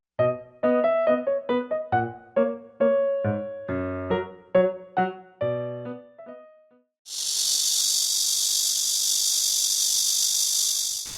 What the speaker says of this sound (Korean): 아 매미 소리가 들린다